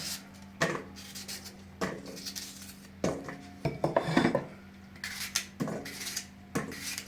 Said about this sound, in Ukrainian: Яблука я нарізаю такими кусочками так само зі шкіркою нарізаю.